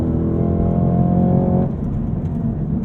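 A Cadillac CT5-V Blackwing's engine revs loudly during a drive, a deep rising growl that holds for about a second and a half, then drops to a lower steady rumble.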